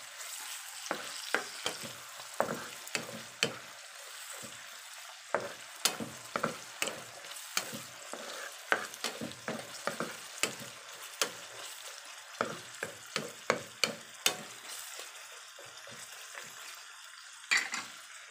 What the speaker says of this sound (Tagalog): Halo-haloin po natin at pagkatasin.